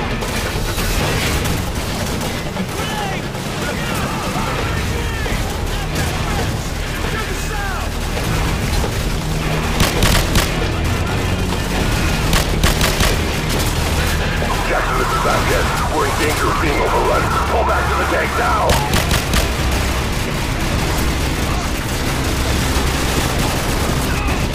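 Heavy gunfire and booming explosions from a tank battle in the Call of Duty 4 video game, dense and continuous with sharp bursts throughout, mixed with radio-style voices talking over the combat.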